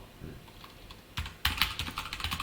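Typing on a computer keyboard nearby, quiet scattered keystrokes at first, then a quick burst of crisp clicks that quickens toward the end, with no talk.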